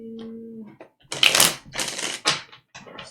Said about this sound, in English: I'll be going in on the shuffling now.